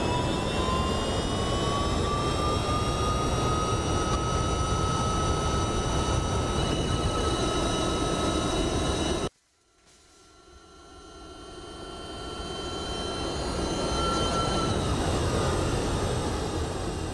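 The jet engines of an MD-11 climbing in the X-Plane 11 flight simulator make a loud, steady roar with a rising whine. The sound cuts out abruptly partway through, then swells back to full strength.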